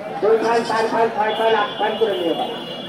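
Several goats bleat one after another in wavering cries, close and loud, amid the busy murmur of a crowded goat market.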